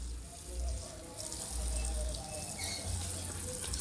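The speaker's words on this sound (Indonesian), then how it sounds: "Kita siram dulu merata teman-teman" Water poured over the growing medium of a potted Jupiter grape vine during pruning and fruiting care, a steady close splashing flow that runs continuously without speech.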